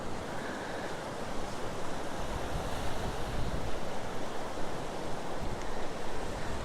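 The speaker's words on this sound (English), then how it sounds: "It's a bit windy," Wind blowing outdoors under an evening sky, a steady broadband rush with gusty microphone buffeting throughout, moderately loud and constant, no voices.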